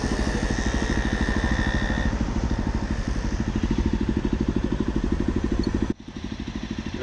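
A Jawa Perak bobber motorcycle engine idles steadily close by with a fast, even thumping pulse, then briefly dips near the end before the beat picks back up.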